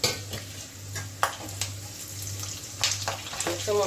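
Whole coriander, cumin seeds and a green chilli fry in hot oil, a close crackling sizzle with several sharp spatters and pops and a few brisk scrapes of stirring, with no voices.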